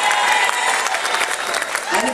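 Audience at a live Liar's Club comedy panel game claps in a sustained, dense burst of applause that runs throughout, fairly close and steady, with a slight swell near the end.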